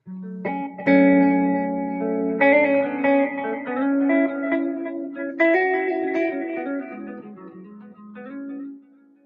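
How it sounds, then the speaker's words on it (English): Electric guitar played through reverb and delay effects, several picked notes and chords ringing out with long echoing tails, clear and close with no talking. "I'm thinking some reverb, some delay, just for vibes, you know?"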